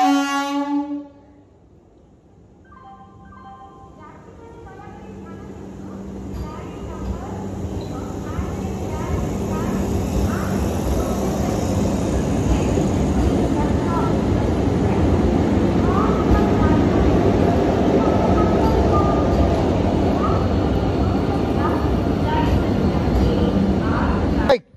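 A train rumbles at Jatni railway station, a broad roar building from quiet to loud and holding steady, after a short opening tone.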